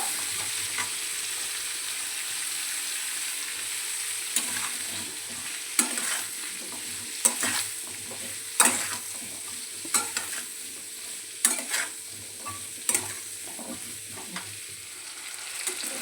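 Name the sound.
amaranth stalks frying and being stirred in a pan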